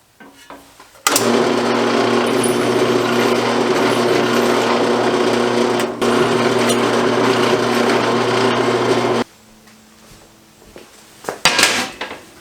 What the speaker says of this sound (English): go ahead and drill and tap these holes.